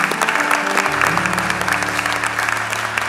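A church congregation applauds during an Easter service, a steady, full wash of clapping throughout, with sustained organ or keyboard tones held underneath.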